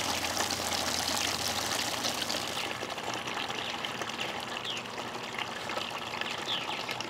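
Water from an active leak pours and trickles steadily at close range, a continuous splashing gush that eases a little partway through, with no voices.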